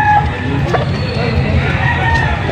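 Boston-breed gamefowl rooster crowing amid a busy crowd at a cockfighting venue in Angeles City, Pampanga, with clucking fowl and chatter in the background.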